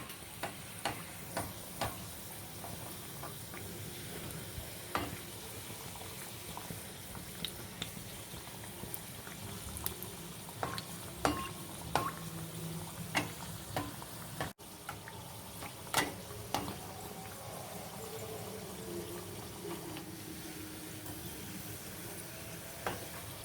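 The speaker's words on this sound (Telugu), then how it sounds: "అన్ని కచోరీలు మనము ఇలాగే బాగా గోల్డెన్ బ్రౌన్ వచ్చేంత వరకు ఫ్రై చేసుకోవాలి" Moong dal kachoris deep-fry in hot oil until golden brown, giving a steady, soft sizzle with scattered crackles and pops, close and fairly quiet, with no talking.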